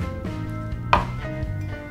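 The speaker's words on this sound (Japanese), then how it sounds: "きゅうりなんですが、ナスと大体同じくらいの大きさになるように切ってください。" Knife chopping cucumber into chunks on a cutting board for a miso-sauced stir-fry dish, a few close, crisp cuts with one sharper chop near the middle, no talking.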